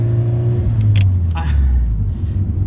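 Engine of a right-hand-drive Mazda FD RX-7 on the road, a steady loud low drone with rising tones, heard from inside the cabin throughout, with faint speech mixed in.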